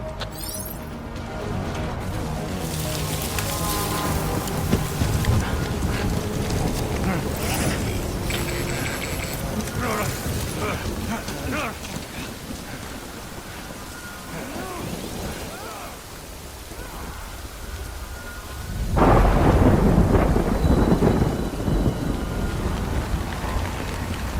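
Steady rain with rumbling thunder in the Death Stranding video game, a dense continuous wash with a louder swell of downpour or thunder near the end, plus faint game mechanisms underneath.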